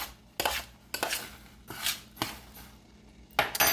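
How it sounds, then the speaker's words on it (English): Homemade grape nuts being stirred as they toast in a pan, with several distinct scraping, rattling strokes of the utensil against the pan separated by short pauses, close and clear with no talking. "I'm toasting my grape nuts now. I like to stir them as they toast."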